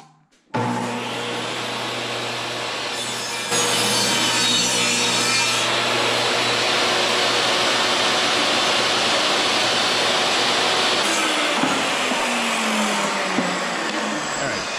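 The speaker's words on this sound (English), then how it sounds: "Let's rip them down so they're 1 1/8 wide." A power saw rips a cheap 2x4 into trim strips, giving a loud continuous whine and rough wood-cutting roar that holds for about fourteen seconds before slowing near the end, with no talking.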